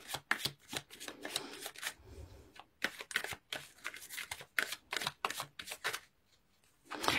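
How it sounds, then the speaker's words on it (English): Tarot cards are shuffled and drawn close up, a rapid run of crisp riffling bursts separated by short pauses and ending in a few soft slaps as cards are laid down. "let's pull few cards to clarify situation"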